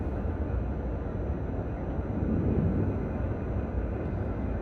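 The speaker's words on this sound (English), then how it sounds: "Here comes the freight train." A mixed freight train rolls past in Train Simulator Classic, a steady low rumbling roar that swells slightly midway, fairly quiet and continuous with no talk.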